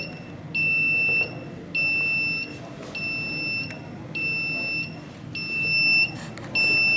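A clean room display alarm buzzer sounds in repeated electronic beeps of about a second each with short gaps, loud and steady over a low background hum, with no voices.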